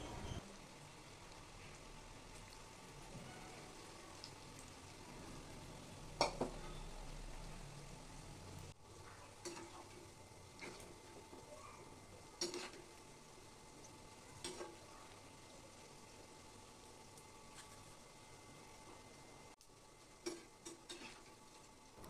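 Onion pakoda batter fries in hot oil, a faint, continuous sizzle with occasional louder crackles, bubbling bursts and stirring clinks across the whole stretch, no talking.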